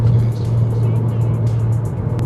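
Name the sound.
Dodge Caliber SRT-4 driving at 100 mph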